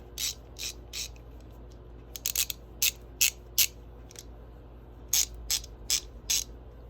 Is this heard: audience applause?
no